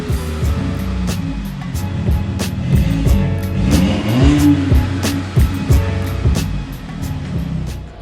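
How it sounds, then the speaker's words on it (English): Stock-engined Audi S3 revving up close, a loud, steady engine roar that swells and climbs in pitch midway before settling back, heard alone. "Last rev with the stock motor."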